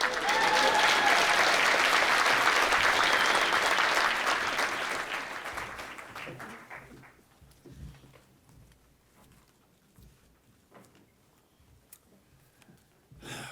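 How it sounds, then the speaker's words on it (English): Loud applause from a crowd fills the first several seconds, then thins out to scattered claps and quiet room noise. "keep clapping if you"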